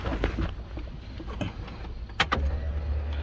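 A car engine with an aftermarket exhaust idles with a low, steady exhaust rumble, broken by a couple of sharp clicks or knocks partway through; the car has an oil pressure problem.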